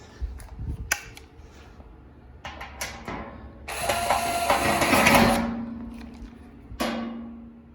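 Screws being tightened during assembly of a Weber Genesis II gas grill, giving close, irregular metallic clicks and ratcheting turns with a longer grinding burst partway through, no talk.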